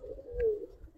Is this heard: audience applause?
no